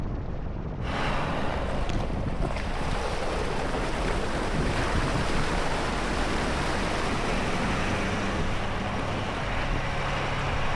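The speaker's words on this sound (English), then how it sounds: "That was Upton's first water crossing, I think" A vehicle driving through a water crossing gives a dense, steady rush of splashing water and broadband noise, loud and continuous after a brief quieter start.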